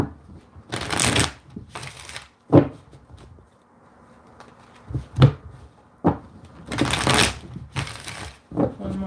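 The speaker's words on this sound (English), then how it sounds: "One more shuffle." Tarot cards are shuffled in several quick riffling bursts, close and crisp, separated by soft handling taps and pauses, with no talking.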